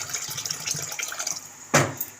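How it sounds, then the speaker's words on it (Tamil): Water poured into a pot of mutton dalcha on the stove, a continuous hissing, filling rush with a sharper splash near the end. "இது கொஞ்சம் தண்ணி ஊற்றிக்கலாம்."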